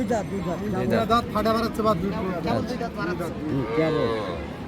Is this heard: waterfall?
no